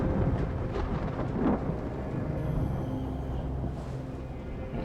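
A thunderstorm in the video game Detroit: Become Human, with a steady wash of rain and low thunder rumbling throughout, loud and continuous with no talk over it.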